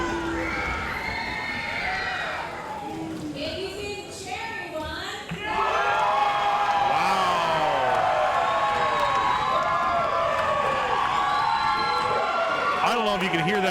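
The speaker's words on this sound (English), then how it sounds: "The cheer for Cherry Bombay bringing the pain on Block Dahlia was deafening" A roller derby crowd roars and cheers for a skater named Cherry Bombay during a bout, starting as a loud wash of voices and surging even louder about halfway through, with shouts and whistles sustained to the end.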